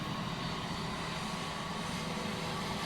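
Airbus A321 engine in the flight simulator game Microsoft Flight Simulator 2024 on PS5, a constant broadband jet roar, steady and moderately loud, with no voices.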